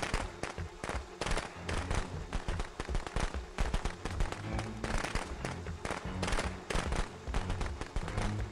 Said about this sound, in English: Fucking fireworks again, really?